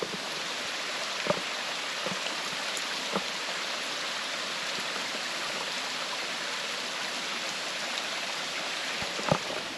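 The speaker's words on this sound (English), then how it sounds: "So far it's just kind of following this nice creek. There's this kind of cool little dam right here." Creek water pours over a small dam beside a mountain hiking trail in Korea, a constant close rushing wash with a few faint clicks, no voices.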